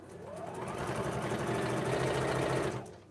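A sewing machine chain stitches small fabric heart pieces one after another without stopping, a steady close whirring hum that runs continuously for about three seconds and then winds down near the end.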